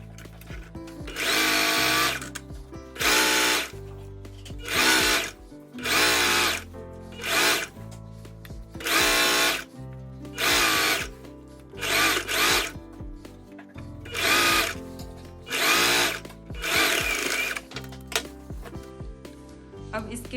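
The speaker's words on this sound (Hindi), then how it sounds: "अब हम इसको चारों तरफ से इसको ऐसे राउंड शेप में स्टिचिंग करेंगे।" A sewing machine stitches the lined waistband of palazzo pants in repeated short bursts of fast whirring, each lasting a second or two and separated by brief pauses, close and clear.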